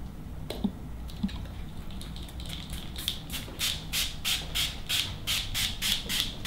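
A spray bottle of sea salt spray pumps out a quick series of hissing mist bursts onto hair, about a dozen in a steady rhythm, close and clear after a couple of soft clicks.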